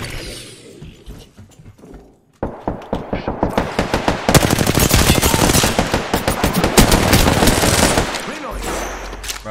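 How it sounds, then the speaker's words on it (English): Enemy gunfire in a first-person shooter: after a brief quieter stretch, rapid automatic bursts crack close and loud for several seconds, then cut off, with a voice faintly present among the shots. "The enemies are shooting at me."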